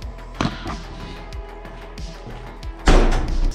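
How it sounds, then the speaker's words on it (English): Heavy door slamming in an abandoned prison, a loud booming impact near the end that rings out briefly, preceded by softer knocks and footsteps in an echoing interior. "Slammed way louder than I thought it would."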